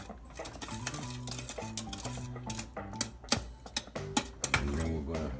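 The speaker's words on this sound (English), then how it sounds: "we have to mix a little sugar into this" Sugar being stirred into a chocolate cake mixture in a bowl, with repeated clinking and scraping of a utensil against the dish in an irregular rhythm, close and moderately loud.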